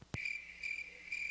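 A cricket chirping sound effect plays after a bad joke: a steady high trill in repeated bursts with a brief knock at the start, fairly quiet and with no talking.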